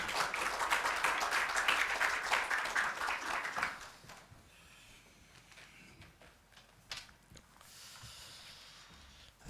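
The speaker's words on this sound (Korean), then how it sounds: "목사님 나오실 때 박수로 환영하겠습니다." A congregation at a Christian prayer breakfast applauds to welcome a pastor, steady, moderately loud clapping that fades out after about four seconds, leaving quiet room sound with a few faint shuffles.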